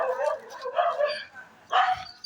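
Dogs and puppies bark and yip in a few short bursts, close by and fairly loud, with people talking at the same time.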